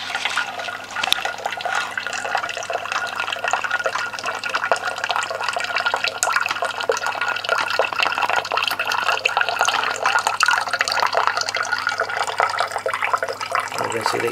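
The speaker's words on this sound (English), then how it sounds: "here is the water coming out" Water gushes and splashes continuously out of an effluent treatment plant, a loud, steady rushing flow with faint dripping, close by and unbroken.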